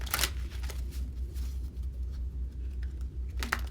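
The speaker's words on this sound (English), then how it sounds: "Let me shuffle here." Tarot cards being shuffled by hand, a steady papery riffling and patter close up, with a couple of sharper bursts near the start and end.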